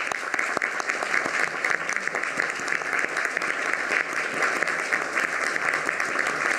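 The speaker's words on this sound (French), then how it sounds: "Et je crois qu'on peut t'applaudir pour ce travail." Applause at a municipal council meeting in Besançon, a room full of people clapping steadily and fairly close for several seconds, with no voices over it.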